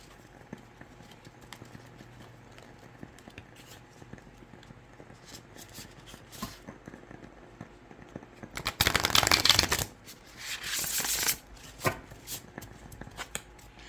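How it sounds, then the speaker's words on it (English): Close, dry riffle-shuffling of a deck of oracle cards, with a couple of brief loud bursts of sliding cardstock after a stretch of quiet handling and light tapping. "So let's shuffle these together."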